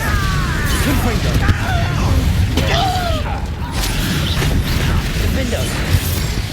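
Confringo fire spell blasts in Hogwarts Legacy, a run of bursts, crackling pops and swooshing magical whooshes mixed with mechanical clatter, loud and close throughout.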